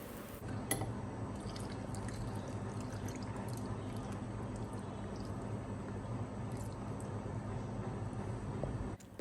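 Water poured from a cup into a pot of meat for Peshawari namkeen rosh, a steady liquid rush and splash that runs close and continuous throughout, with a few faint clinks.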